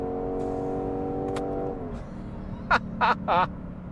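A Lexus IS500 engine holds a steady revving drone past 7,500 RPM, then its pitch drops as it downshifts, followed by three short, sharp honking bursts.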